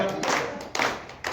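At a Holi gathering of a Ghaziabad journalists' association, an audience breaks into several short bursts of clapping, close and fairly loud.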